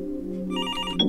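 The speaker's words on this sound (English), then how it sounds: "So now, someone is calling." An in-game phone rings in the video game Breathless, a steady electronic ringtone tone joined by brighter chiming notes, heard alone and fairly close.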